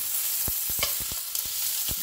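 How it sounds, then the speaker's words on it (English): Chopped snake gourd sautes in a pan over a low flame, a soft continuous sizzle broken by several scraping stirs of a spoon, close and clear. "Now we add the vegetable and saute it on a low flame."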